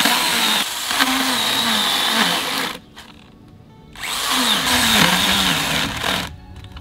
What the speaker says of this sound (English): I'm going to use my mini chainsaw.